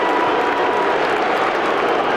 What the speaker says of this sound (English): Listen to the crowd giving an opinion on all sorts of things, including the umpire, I'm sure.